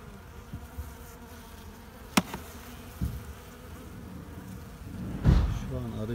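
Purebred Carniolan honey bees buzzing at an overwintered breeding hive in Gebze, a steady close insect drone with individual bees passing near the microphone.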